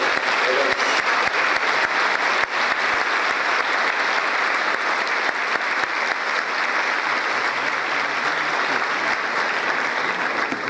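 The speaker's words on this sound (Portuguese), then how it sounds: "Vamos louvar a Deus, aplaudindo ao Senhor Jesus pela vida dele" A large church congregation applauding steadily and loudly for about ten seconds during a worship service, sustained clapping with no pause.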